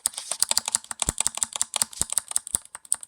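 Rapid, close clacking keystrokes on a mechanical keyboard with its space bar removed, an uneven stream of sharp, crisp taps with a few heavier thuds and no talking.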